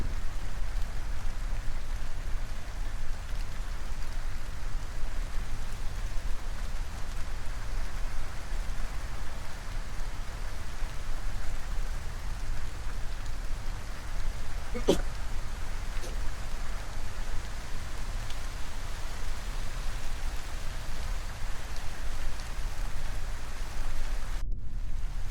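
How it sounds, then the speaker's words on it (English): Steady, even rain hiss from a video game (Kerbal Space Program) continues throughout at a constant level, with a single brief click partway through. "look, it's raining below the clouds"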